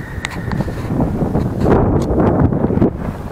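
Wind blows across the mountain rock fortress on Paunov Kamak peak near Tazha, above the Tazha gorge. It gives a steady, close, broadband rush that swells louder through the middle, with no voices.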